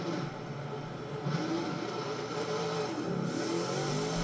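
A racing game car engine drones continuously at moderate volume, a steady high motor whine with slight shifts in pitch.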